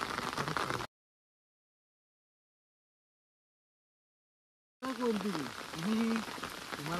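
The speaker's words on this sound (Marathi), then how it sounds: "बेकार परत पावसाची सुरुवात झाली रे" Rain falling outdoors near a river during the monsoon, a dense steady patter at the start, then a long silent gap before the rain resumes with a voice talking over it.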